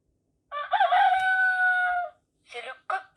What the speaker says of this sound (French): C'est le coq qui chante.